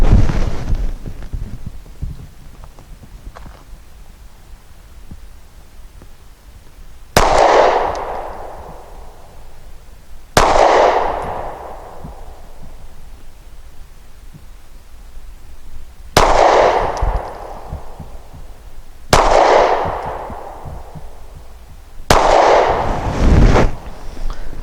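Five sharp gunshots from a custom Glock G43 pistol firing 124 grain match ammunition at a target, spaced a few seconds apart, loud and close, each with a short ringing decay and no talk between them.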